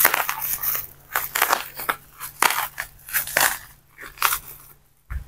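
Crinkly protective wrapping around a vitamin bottle from a shipped parcel being torn and peeled away, giving loud irregular crackling and crunching rustles that come in repeated bursts, close up with no talking.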